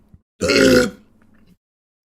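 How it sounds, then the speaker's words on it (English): One loud, close burp rumbles out for about half a second, then trails off into quiet; no one speaks. "I had a big burp stuck in my throat right there"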